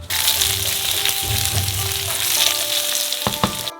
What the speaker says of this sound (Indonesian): Goreng kentang hingga garing.